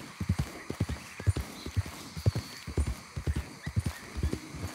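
Rhythmic hoofbeats of a horse galloping through the game Red Dead Redemption 2, steady clip-clop pattern of grouped thuds, fairly close with a faint background ambience.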